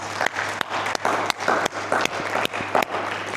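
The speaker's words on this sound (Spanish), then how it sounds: "Vamos a dar un aplauso al Señor." A church congregation applauds, a dense crowd of hand claps with a steady low hum beneath and several sharper individual claps standing out.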